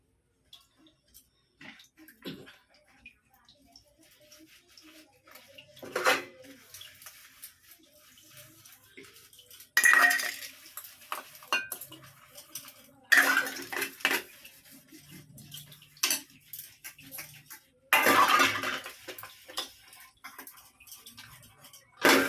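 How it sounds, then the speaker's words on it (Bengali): Dishes, pots and utensils get washed in separate bursts: clattering metal, running water and scrubbing come in several loud spells. Quiet gaps fall between them, with faint background sounds. "তাই সমস্ত বাসন কাপড়গুলো ধুয়ে নিয়ে আসি।"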